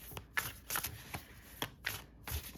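Tarot cards are shuffled by hand in a series of quick, crisp riffling bursts, about six in all, at an uneven rhythm, close and fairly quiet, with no talk.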